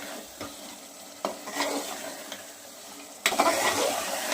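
Mutton mince sautéing and being stirred in a pan, a steady sizzle with scraping spatula strokes every second or so, growing louder near the end; no voices.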